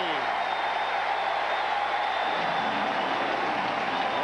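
A stadium crowd of more than 70,000 at an NFL football game, Cleveland Browns at Jacksonville Jaguars, roars and cheers in a steady, dense wash of noise throughout, with a commentator talking over it.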